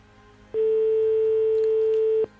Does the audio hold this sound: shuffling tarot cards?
no